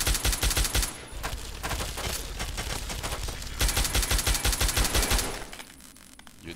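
Rapid automatic gunfire from the Fallout 3 video game, loud dense bursts of shots that ease briefly mid-clip and then resume before fading at the end, with no talking.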